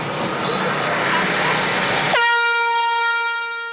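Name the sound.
air horn blast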